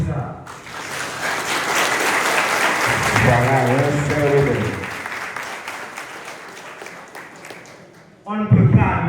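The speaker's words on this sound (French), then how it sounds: "Demandez-nous pour nous applaudir pour ça." A crowd at a Haitian school ceremony for a computer lab donation at Lycée Nord Alexis claps steadily for several seconds, with a voice rising over the applause midway and speech resuming at the end.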